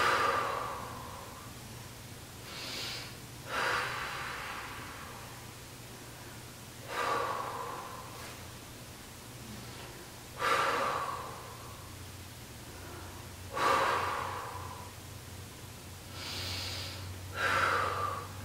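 Deep, slow breaths taken during a core exercise for diastasis recti, each a soft airy exhale or sniff of about a second, repeating every three to four seconds, close and quiet against a faint low hum.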